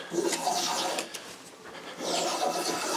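Freshly sharpened hand plane shaving a strip of wood during rough and final planing, heard as two long, loud rasping strokes close by, each a steady swishing scrape with a brief lull between them.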